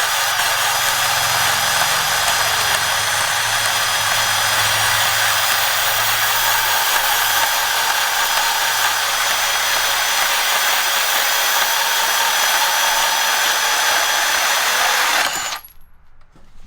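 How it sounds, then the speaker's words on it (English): A DeWALT 12V cordless band saw cutting through steel rebar, making a loud continuous high-pitched whine and grinding close up for about fifteen seconds before the blade stops abruptly. "This cuts way faster than a grinder on rebar."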